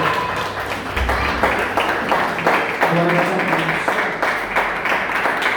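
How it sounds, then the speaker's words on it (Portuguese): A church congregation claps for Jesus during an evening worship service, steady rhythmic applause throughout with a preacher speaking over it. "A igreja poder se assentar, dando uma linda salva de palmas para Jesus"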